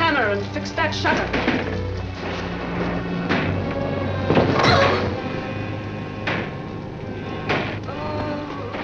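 Loose wooden window shutter banging in a storm inside an old house, a few sharp irregular knocks over a steady rumble of wind and rain, one louder thud near the middle, with no voices.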